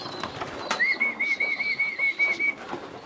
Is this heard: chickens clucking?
no